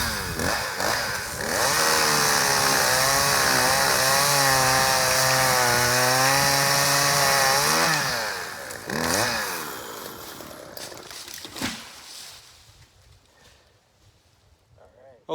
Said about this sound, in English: So I'm gonna go ahead and I'm gonna fall this tree